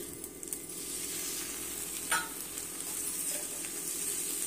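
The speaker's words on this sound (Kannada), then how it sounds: "ಈಗ ಸ್ಟವ್ ಆನ್ ಮಾಡಿಕೊಂಡು ಎಲ್ಲ ಮಿಕ್ಸ್ ಮಾಡ್ಕೊಳ್ಳೋಣ" Lemon rice is stirred in a pan on the stove, with a soft continuous sizzle, gentle scraping strokes and one brief louder clink of the spoon against the pan.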